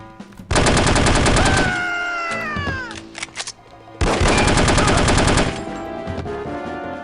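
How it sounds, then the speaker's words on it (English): Enemy gunfire with poison bullets in the spy shooter No One Lives Forever: two long, loud bursts of rapid automatic fire, separated by a short lull with scattered clatter. "These guys are shooting poison bullets"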